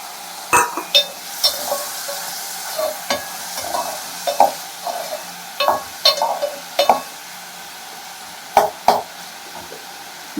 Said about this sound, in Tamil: இந்த புளியை கரைச்சி ஊற்றிக்க வேண்டியது.